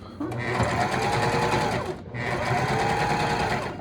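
A sewing machine stitches around the card-slot box of a ladies' wallet in two loud, close bursts of rapid whirring separated by a brief pause.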